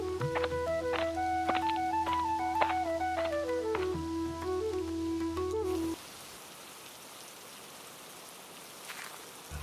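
Cartoon rainfall on a rainy day at a fisherman's house: a steady, even hiss of rain that takes over once a melodic music passage stops, with no voices.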